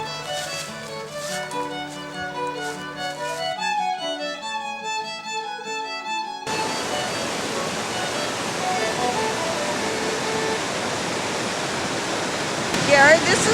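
Water pouring over the falls at an old mill dam site on a small river, a steady broadband rush that swells and fills the second half, following tuneful music and with no voices over it.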